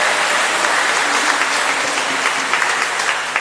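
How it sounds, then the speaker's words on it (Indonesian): A large audience in a hall gives dense, sustained applause at the opening of a church pastoral meeting. The clapping is loud and even throughout, with no individual voices standing out. "Sekali lagi mari kita beri tepuk tangan yang meriah."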